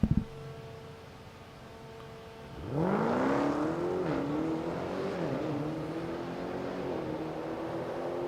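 Race car engine on a lap driven by Kristen Kripe at about 106 mph, loud and close: a brief silence, then a sharp revving rise into a sustained high-pitched drone with wavering pitch and a dip mid-run.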